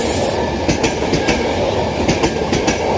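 Class 91 locomotive 91127 leads a train through Newcastle Central station, a steady loud rumble of rolling wagons with repeated clickety-clack wheel beats over rail joints, with no voices.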